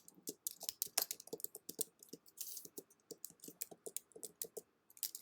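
Quick, uneven bursts of keystrokes clatter on a computer keyboard during Python coding, close and fairly quiet, with brief pauses between runs of typing and no talking.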